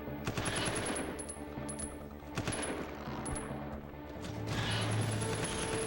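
Gunfire in the video game Resident Evil 0, Leech Hunter bonus mode: rapid, repeated shots crackle over steady electronic game tones and background music at moderate loudness.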